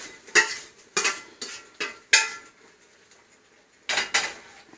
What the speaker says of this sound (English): I'm going to take this, and you're going to dump it into your pot